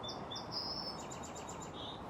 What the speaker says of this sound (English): Lovely chorus of bird song